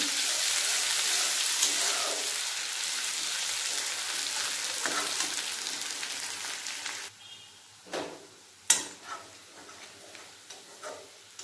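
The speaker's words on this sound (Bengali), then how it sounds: "এর মধ্যে দিয়ে দেবো বেটে রাখা রসুন, রসুন ও পেঁয়াজের সাথে ভালোভাবে ভেজে নেব" Garlic paste and onion frying in a pan hiss loudly and steadily for several seconds, then the sizzle suddenly drops to a quiet simmer broken by a few sharp clatters of utensils and stirring, with no voice.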